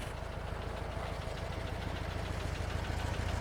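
Air-cooled engine of a 1964 Volkswagen Beetle California-style bug with Empi parts idling steadily close by, a continuous low rumble with an even throbbing pulse and no talk over it.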